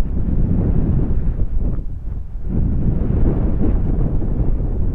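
Strong wind roars steadily against the microphone at a road construction site between Nueva Ecija and Dingalan, Aurora, a low buffeting rush that dips briefly before surging back.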